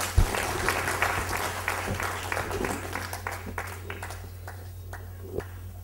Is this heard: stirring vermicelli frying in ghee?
no